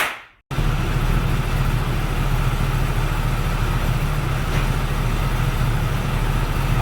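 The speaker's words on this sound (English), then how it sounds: "I'm just gonna go ahead and get the dyno going and show you guys the video" A Kawasaki ZX-10R sport bike engine runs steadily on a dynamometer with cooling fans going, a loud, continuous mechanical drone that starts abruptly after a brief gap.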